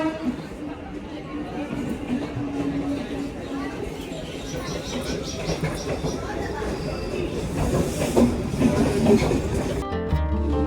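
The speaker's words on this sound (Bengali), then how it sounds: "বেশ কিছু সময় অপেক্ষা করার পর মুর্শিদাবাদ যাওয়ার ট্রেন আসলো তিন নম্বর প্ল্যাটফর্মে" A passenger train bound for Murshidabad pulls into platform three at a busy Indian station, a steady rumble and rolling rail noise building toward the end under constant crowd chatter.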